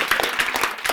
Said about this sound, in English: big round of applause for the kids